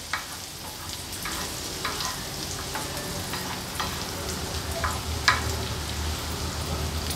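Onion frying in oil with turmeric being stirred in for a spicy prawn thecha, a continuous crackling sizzle close by, dotted with light irregular scrapes and taps of a spoon, a sharper knock near the end.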